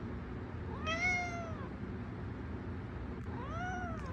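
Two nearby Manx cat meows, each a clear wavering cry, separated by a couple of seconds of quiet room hum.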